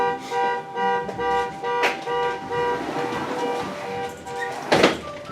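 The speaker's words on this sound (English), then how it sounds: "Somebody's car alarm's going off." A car alarm blares nearby with steady, repeating electronic tones and a couple of louder bursts, continuing without pause.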